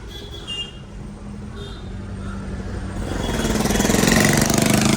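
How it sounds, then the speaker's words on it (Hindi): Motorcycles with their silencers removed rumble in a traffic jam on a mountain road, a low engine roar that swells louder and rougher over the last two seconds. "साइलेंसर बिल्कुल हटा रखा है और इतनी गंदी आवाज़ आ रही है ना बाइकों से,"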